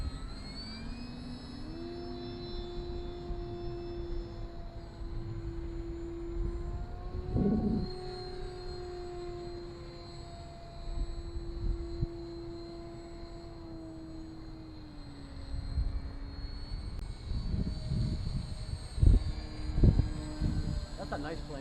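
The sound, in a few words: gas-powered RC model airplane flying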